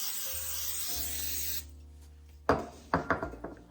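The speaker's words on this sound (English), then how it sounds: "Now, I'm going to spray our pan." Cooking spray hisses onto a cake pan in a steady, close burst lasting over a second, then stops, followed by a few sharp knocks and taps of the pan.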